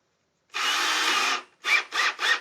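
Power drill boring into guitar wood in a luthier's workshop: one sustained whirring run of about a second, then three short quick bursts, close and loud with no talk.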